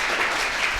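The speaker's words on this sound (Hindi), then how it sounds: "जोरदार ताली प्रणव के लिए।" An audience at a coaching centre student event claps steadily, a brief dense burst of applause with no voices over it.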